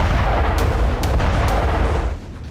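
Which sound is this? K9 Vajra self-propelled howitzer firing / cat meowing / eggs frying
K9 Vajra self-propelled howitzer firing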